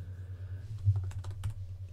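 Quiet keystrokes on a computer keyboard as a message is typed, a short scattered run of taps over a low steady hum.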